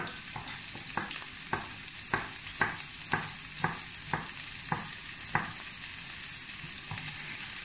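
Onions and garlic frying in oil for rougail saucisse: an even sizzle under a regular series of sharp clicks and scrapes as a spoon stirs the pan, close and fairly quiet, with no voices.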